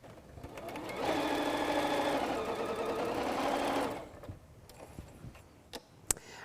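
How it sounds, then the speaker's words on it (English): A sewing machine runs steadily for about three seconds, stitching two quilt pieces together for a table runner, then stops, leaving quiet handling sounds and a few faint clicks. "So we're going to start by sewing these two pieces together."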